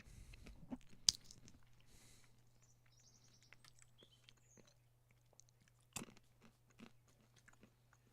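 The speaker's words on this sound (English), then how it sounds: "ASMR pistachios." Close, quiet crunching and biting of pistachios in ASMR style, with scattered cracks of shells over a low steady hum and a few faint bird chirps in the background.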